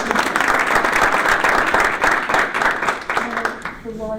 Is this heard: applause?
yes